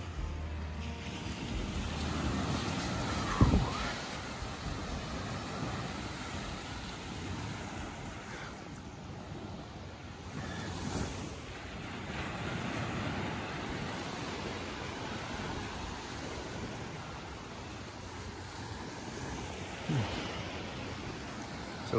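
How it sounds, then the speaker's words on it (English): Surf washing onto a beach near Venice, Florida after sunrise, a steady broadband wash of waves with brief louder surges, heard alone with no voices. "We're back out onto the beach."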